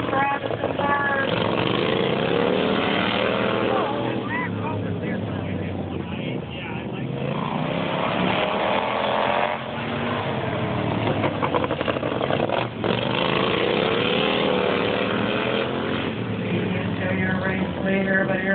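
Racing lawnmower engines roar steadily during a lawnmower race, a continuous buzzing drone that rises and falls as the machines pass, with an announcer talking over them.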